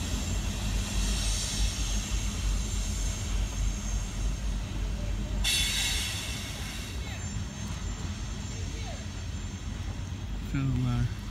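A southbound Norfolk Southern coal train rolls past at close range in Richlands, Virginia, a steady broad rumble filling the whole stretch with a brighter burst midway, and a brief voice near the end.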